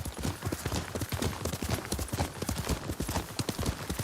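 Steady, rhythmic clip-clop of horse hooves trotting in the video game Ghost of Tsushima, close and continuous throughout.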